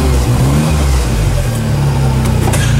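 A 57-horsepower Chinese engine on farm equipment runs loud and close with a steady, throbbing mid-pitched drone and slight revving, heard on its own without talk.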